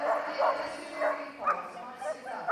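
Repeated short dog barks, fairly close, from a dog on an agility course seesaw, mixed with commentary and crowd noise in the background.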